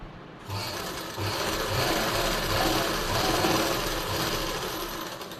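A sewing machine runs steadily, stitching loose basting stitches along the darts of a blouse lining, its motor hum and rapid needle clatter continuous and close throughout with no voices.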